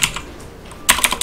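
Keys clatter on a computer keyboard with a few quick taps, a brief pause, then a close, crisp burst of several rapid keystrokes.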